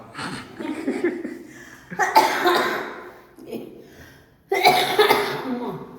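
Several loud, harsh coughs from a person with a cold come in separate bursts with short pauses between them, close to the microphone.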